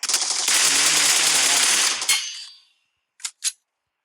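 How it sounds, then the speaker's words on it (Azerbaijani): Car exploding in a video game, a dense crackling burst of blasts and debris lasting about two seconds that fades out, then two short sharp cracks after a moment of silence. "Maşın niye partladı?"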